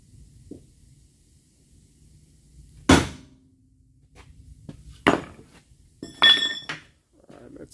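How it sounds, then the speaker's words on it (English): A homemade iron bar taps a car door hinge on a Ford Edge, giving three separate sharp metallic clinks spaced a couple of seconds apart, the last one ringing briefly, with quiet pauses between. "So I use this and I tap the hinge."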